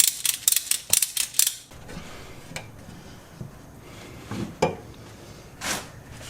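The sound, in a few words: ratchet strap being set up on flywheel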